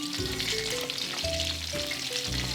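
Small fish fry in a pot, with a steady, loud, dense sizzle of bubbling oil running throughout and low stirring or clanking underneath.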